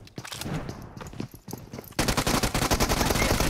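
PUBG Mobile gunfire opens with scattered shots and steps, then becomes a rapid, loud, sustained automatic burst of closely spaced reports.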